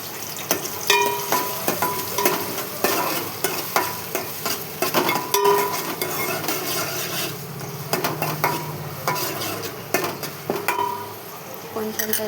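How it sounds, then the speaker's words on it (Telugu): Curry leaves, onion and green chillies fry in a pan with a steady sizzle, broken by repeated scraping stirs of a spatula against the metal, close and loud, with occasional talk. "కరివేపాకు, ఉల్లిపాయ, పచ్చిమిర్చి ఇందులో వేసుకోవాలి. ఇది కొంచెం గోల్డ్ కలర్ వచ్చేదాకా వేయించుకోవాలి."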